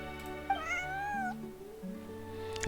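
A cat in the video game Genshin Impact gives a clear rising meow over soft background music, followed by lower game tones and a short burst of noise at the end.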